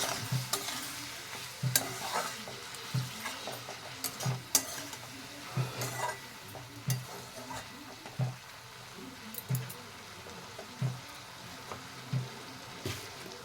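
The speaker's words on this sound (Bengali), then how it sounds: "অল্প একটু জল দিয়ে দেব। দিয়ে ভালো করে নাড়াচাড়া করে নেব।" Vegetables being stirred in a pan after a little water is added for bhitoli chachodi, a spatula scraping in a steady rhythm of repeated strokes over a soft simmering sizzle, close and fairly quiet.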